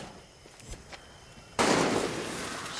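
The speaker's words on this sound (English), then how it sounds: "who's shooting?" Gunfire in Far Cry 6, with a few faint pops followed by a sudden loud burst of crackling shots that continues as a dense rattle to the end.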